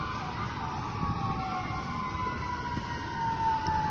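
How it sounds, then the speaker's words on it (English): A paramedic ambulance's siren wails past on a street, a loud, steady, sweeping tone that persists throughout with no voices. "that paramedic ambulance just passed"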